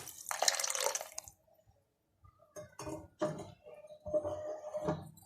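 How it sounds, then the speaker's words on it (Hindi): Warm water poured from a glass into masala for matar pulao in a pot, a steady splashing pour for about a second, then quieter intermittent liquid sounds and stirring clatter. "तो अब मैं इसमें पानी डाल देती हूँ।"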